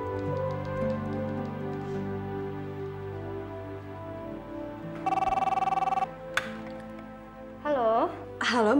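A telephone rings on an outgoing call in an Indonesian TV drama scene, with two buzzy bursts of electronic ringing after stretches of talk over background music.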